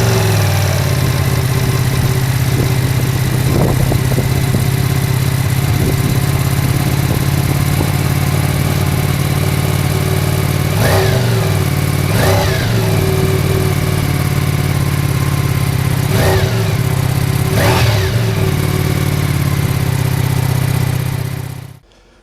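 A motorcycle engine on its factory exhaust idles steadily and close for about twenty seconds, with a few short throttle blips breaking the even rumble before it cuts off at the end.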